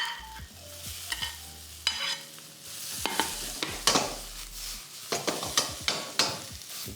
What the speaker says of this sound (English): Just stir frying up your veg.